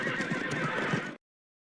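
Horses neigh loudly in a film scene, a single shrill whinny over clip-clopping hooves, close and brief before cutting to silence.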